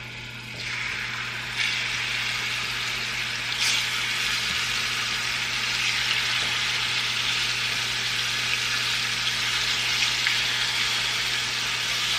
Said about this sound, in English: I'm just going to heat up some oil in a pan. Okay, and then I'm going to start putting in my shrimp.